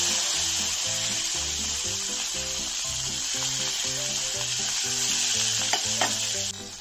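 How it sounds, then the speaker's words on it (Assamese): Fish rubbed with turmeric and salt, straight from the deep freezer, fries in a pan with a loud, steady sizzle and occasional stirring clinks near the end. "মাছখিনি ভাজি"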